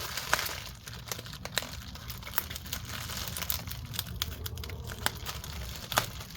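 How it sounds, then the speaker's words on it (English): Bubble wrap taped over the LCD screen of a Lenovo ThinkPad T480 laptop is cut and pulled away, giving continuous close crinkling and rustling broken by sharp snapping clicks. "they taped on some bubble wrap here, so I need to cut this off"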